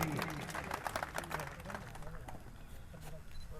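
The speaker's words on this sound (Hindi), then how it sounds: "जोरदार एक बार ताली बजाकर इनका स्वागत करेंगे" A crowd at a youth dialogue event in a political gathering claps steadily in dense, continuous applause, heard from within the audience at moderate distance.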